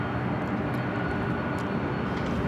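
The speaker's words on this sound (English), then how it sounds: "Delta 767 also heading down to 24 left" A Delta Boeing 767 airliner approaches runway 24 left at LAX, giving a steady broadband jet roar that fills the short stretch without a break.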